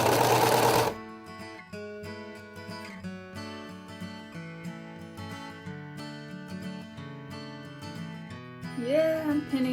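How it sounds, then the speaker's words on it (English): A serger sewing machine overlocks the edge of fabric cut from vintage blankets while making a coat: a steady, close motor whir with shifting tonal hum that runs for nearly ten seconds after a brief burst at the start. "serging is not cheating. It's just the most practical way to cover the edge."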